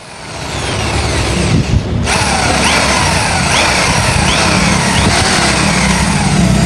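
A DongCheng DZJ02-13 electric impact drill with a 6 mm bit bores into a 3 mm plate at low RPM, giving a loud, steady motor whine with grinding that runs throughout and shifts in tone about two seconds in.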